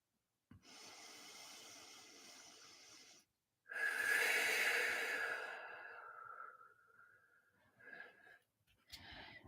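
Deep, slow breathing during a spiritual card reading, two long breath sounds close to the microphone, separated by a short pause, then softer fading breaths.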